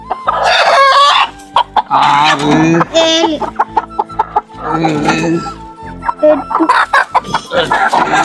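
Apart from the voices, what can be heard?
broiler chickens clucking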